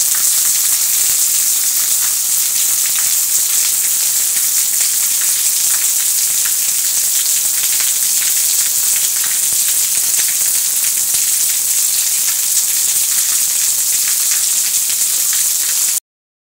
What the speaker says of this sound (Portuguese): Chuva na capital de Fortaleza